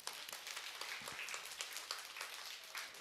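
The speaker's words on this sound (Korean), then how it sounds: "박수 한번 칩시다." A church congregation applauds together at a Sunday service, a steady, fairly faint patter of many hands clapping that fills the whole stretch without talk.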